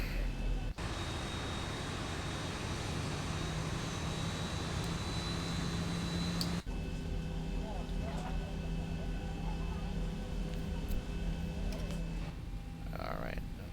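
Jet airliner engines spool up for takeoff in the X-Plane 11 flight simulator, Zibo Boeing 737 departing runway 12 at Kingston, a steady broadband roar throughout with a sharp change partway, voices talking over it.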